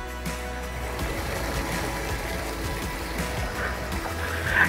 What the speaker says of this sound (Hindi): ये देखिए कितना शुद्ध पानी है